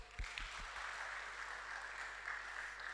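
Group applause in a room, a soft, fairly distant wash of clapping that holds steady for a few seconds after a couple of low thumps.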